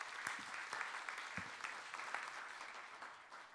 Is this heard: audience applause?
yes